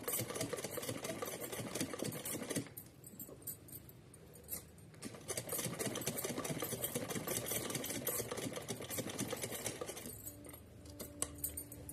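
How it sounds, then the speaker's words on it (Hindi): A sewing machine runs double stitching along the bodice of a small doll dress, rattling in fast continuous bursts with a couple of brief pauses, close and clear. "जहाँ चोली है वहाँ हम डबल सिलाई लगाते हैं"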